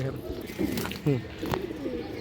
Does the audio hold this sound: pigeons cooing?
yes